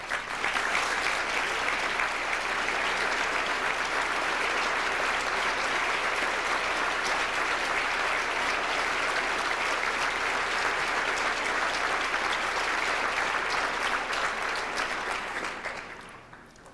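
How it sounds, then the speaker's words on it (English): A large audience at a 1992 law school tribute gives sustained, dense applause that stays steady for about fifteen seconds before fading out at the end, with no voices over it. "we can give you another round of applause"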